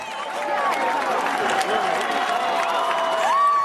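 Expectant crowd in St. Peter's Square at the Vatican cheering as smoke rises from the chimney, a dense wash of voices and whistles swelling steadily, with a narrator speaking over it.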